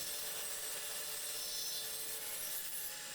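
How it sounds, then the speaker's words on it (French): A steady, grinding rasp of a table saw cutting a groove in wood runs without pause, fairly quiet and even throughout. "en opérant une rainure à l'aide de la scie sous table"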